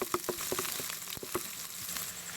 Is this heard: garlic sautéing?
yes